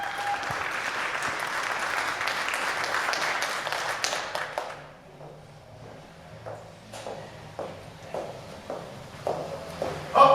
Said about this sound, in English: bring her up with a round of applause